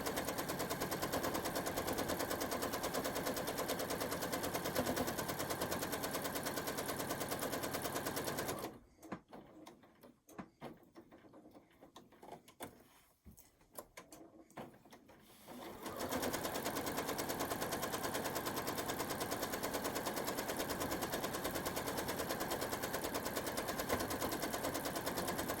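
A sewing machine stitches quickly and steadily during machine quilting, a dense rattling run that stops for several seconds of quiet with a few faint clicks and then starts up again at the same pace.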